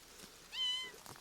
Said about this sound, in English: There's a kitten here.